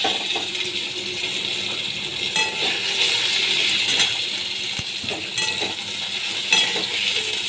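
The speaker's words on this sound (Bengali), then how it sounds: "ছোলা কচু আমি ভেজে নিচ্ছি সামান্য নুন হলুদ দিয়ে ছোলা কচুটা আমি ভেজে নিচ্ছি" Pieces of taro frying in a pan with salt and turmeric for a katla fish curry. A steady close sizzle runs throughout, with intermittent metallic clinks and scrapes of a spatula.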